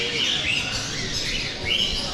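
Parrots and other exotic birds at an indoor bird expo give repeated high chirps and squawks over a busy hall background. No one speaks.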